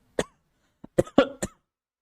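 A teacher in a class 12 chemistry lesson coughs several times in a row, short sharp bursts close to the microphone with brief gaps between them and no talk.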